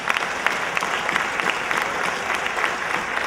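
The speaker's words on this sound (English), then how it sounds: "I actually would like to ask for a tremendous applause for the people who did all that work" Conference audience bursts into steady applause, a dense even patter of many hands clapping with sharper individual claps popping out, continuous and moderately close throughout.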